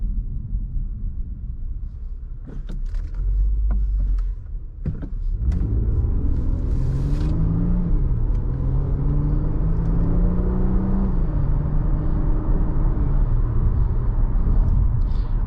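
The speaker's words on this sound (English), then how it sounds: "I love it when you hear that VTEC crossover." A 2014 Acura TL 3.7 SH-AWD engine pulling hard under acceleration, heard from inside the cabin as a loud sustained drone that climbs in pitch as the revs rise through the VTEC crossover.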